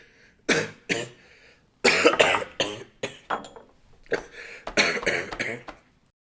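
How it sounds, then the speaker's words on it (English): A man coughs in several harsh, close bursts: two quick coughs, a pause, then a longer fit of repeated throat-clearing coughs with no talking. "It's just a cough."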